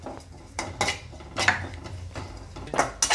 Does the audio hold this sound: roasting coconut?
yes